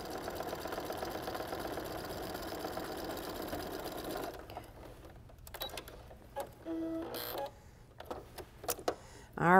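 A sewing machine stitches a 1/4 inch quilt seam, its steady rapid mechanical whir running continuously for about four seconds before stopping, followed by quieter handling noises and clicks.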